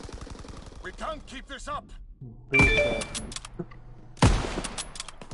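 Call of Duty gunfire: sharp, loud bursts of in-game shooting break out twice, cutting in abruptly between a shouted voice and fading tails, with a faint engine-like hum underneath.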